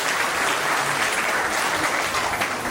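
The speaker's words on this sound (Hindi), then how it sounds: "जोरदार तालियों के साथ आदरणीय मुख्यमंत्री जी का अभिनंदन करें।" Loud, sustained applause from an audience greeting the Chief Minister at a public Guru Purnima event, a dense, even wall of clapping that holds strong throughout.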